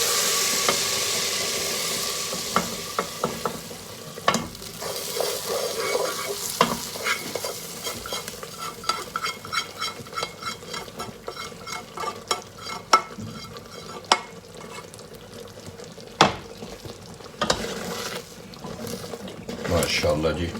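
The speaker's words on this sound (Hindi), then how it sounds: "अब इसको तड़का लगाएंगे जी।" Hot oil sizzles and crackles steadily with scattered sharp pops and the scrape of stirring, loud and close, with no voices, as a tempering is made for masoor lentils.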